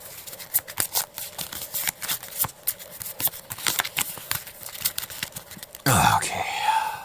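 Rapid riffling and snapping of playing cards being shuffled up close, a run of quick crisp bursts, with a soft voice and a rustle near the end.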